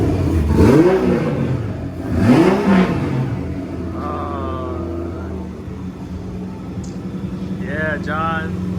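A Nissan 300ZX Z31 engine, freshly repaired after a head gasket replacement, gets a couple of quick revs that rise and fall close by, then settles into a steady idle hum while people talk over it.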